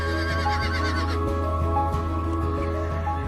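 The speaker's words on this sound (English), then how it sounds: "Now the last species of wild horse left on Earth is the Przewalski, which only survived in captivity." A Przewalski's wild horse, the last wild horse species, surviving in captivity, neighs and whinnies over a steady droning background, the calls fairly clear and close across a few seconds.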